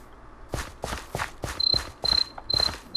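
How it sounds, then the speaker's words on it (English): Crickets chirp in Minecraft, short repeated insect trills close and clear over a steady run of soft footsteps, with no talk. "Crickets."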